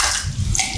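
A fired ceramic pot is dipped into a bucket of water, making a brief, close, full-bodied watery swish and slosh.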